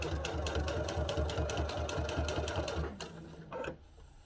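Sewing machine running steadily as it stitches a cathedral window quilt panel, a loud, fast, even mechanical chatter that slows and stops near the end, followed by a brief final burst.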